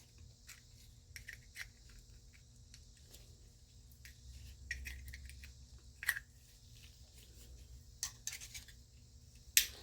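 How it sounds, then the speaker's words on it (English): Curved tin snips cut through metal sheet close by, giving a quiet series of short crisp snips and scrapes at an uneven pace with small pauses between cuts. "I've got some tin snips that are curved that will work around corners"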